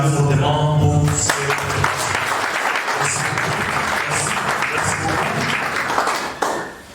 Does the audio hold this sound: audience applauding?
yes